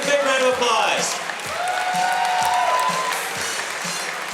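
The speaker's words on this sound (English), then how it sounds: "Let's give a big round of applause." Audience applause at the QuakeCon 2006 award ceremony for the Quake 4 duel championship, a steady wash of clapping with some cheering that fills the whole stretch, with a voice and tonal sounds rising over it partway through.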